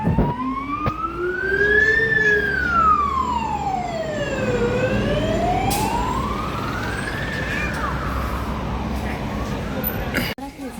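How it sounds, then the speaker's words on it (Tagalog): A fire truck siren wails close by outside a museum, sweeping steadily up and down in a slow rising and falling tone over the rumble of passing traffic, loud and continuous throughout. "bumbero na naman"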